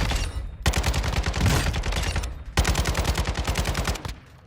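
Automatic gunfire from a weapon in Call of Duty MWII DMZ, two loud close bursts of rapid shots separated by a brief pause, fading at the end.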